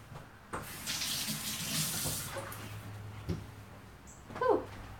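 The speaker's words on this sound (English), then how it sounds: "I'm going to wash the onion off my hands." Water runs from a kitchen sink tap as onion is washed off hands, a steady moderate splashing stream with hands rubbing under it, ending with a brief squeaky rinse sound.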